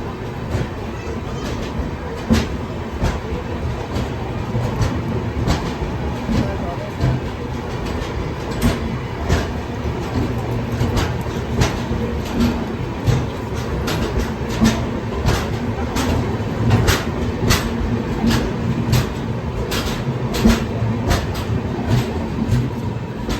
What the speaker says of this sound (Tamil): இந்த ட்ரெயின் பார்த்தீங்கன்னா ஒரு அன்ரிசர்வ் ட்ரெயின், அதனால் எந்த கோச்சாலும் ட்ராவல் பண்ணலாம்